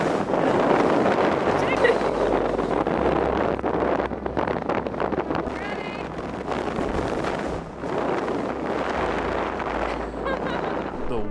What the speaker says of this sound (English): The wind was just unstoppable.